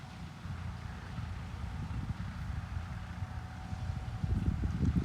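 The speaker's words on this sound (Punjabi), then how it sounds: "ਸੋਨਾਲੀਕਾ ਟਰੈਕਟਰ ਆ ਇਹ" A Sonalika tractor engine gives a low, steady rumble throughout, mixed with wind buffeting, growing slightly louder near the end.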